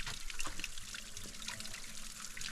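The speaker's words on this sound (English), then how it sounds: "Gotta love a good waterfall." A small waterfall in the Glow Worm Tunnel trickles and splashes steadily, a faint, continuous watery patter echoing in the cave with no talk.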